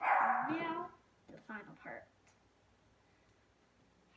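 A dog barks once loudly and close by, a harsh burst, then gives two or three shorter, quieter yips; a person speaks briefly among the barks in an indoor room.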